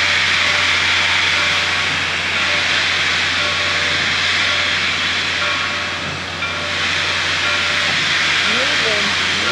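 Steam locomotive No. 425 departs Port Clinton, Pennsylvania, with a loud, steady hiss of steam running throughout, a faint low rumble beneath it and a brief dip in volume partway through.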